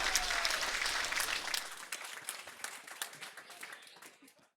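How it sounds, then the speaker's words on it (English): Applause ripples through the crowd at a men's curling event as the second event ends, starting as a dense burst and thinning into scattered individual claps that fade out. "So that was applause for the second event."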